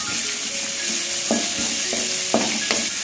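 Onions for chicken fried rice sauté in a pan with a steady close sizzle and occasional stirring knocks, while faint melodic tones play in the background.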